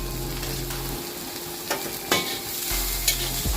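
Garlic, green chilli, onion and curry leaves frying and being stirred in a little oil, a soft sizzle broken by a few scraping stirs and light clinks of the spoon.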